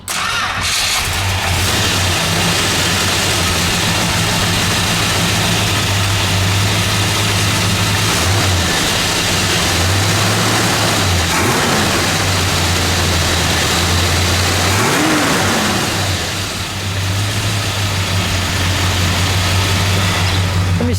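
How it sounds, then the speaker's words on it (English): A 1969 Plymouth Road Runner convertible's 383 V8 idles with a deep steady burble, then blips the throttle a few times in short rising revs before settling back to idle. "we'll let it idle, and then we'll give it a rev."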